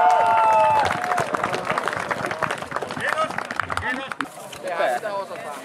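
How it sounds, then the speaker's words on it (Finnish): Outdoor crowd at the Noxbo 2013 airsoft event breaks into applause and cheering, a dense burst of clapping with shouts and voices mixed in, then chatter takes over. "Kiitos teille kaikille, isot aplodit!"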